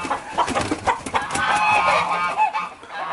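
Chickens, including a rooster, clucking and honking close by, a busy run of loud overlapping calls and squawks with no talking.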